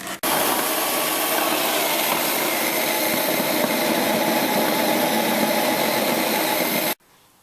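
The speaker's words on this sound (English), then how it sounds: "I've just got the burner on low, keeping it up to temp" A brewing burner turned down low holds steady at mash temperature, giving a continuous broadband roar that runs evenly for about seven seconds, then cuts off abruptly.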